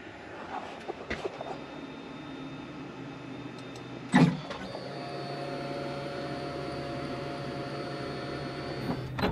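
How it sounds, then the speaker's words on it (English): An Onefinity X50 Woodworker CNC machine homes to its front left corner. There are a few clicks and a sharp knock, then a steady motor whine with tonal hum as the gantry drives. No one speaks. "we're going to go ahead and home the machine. Should bring it back to the front left corner"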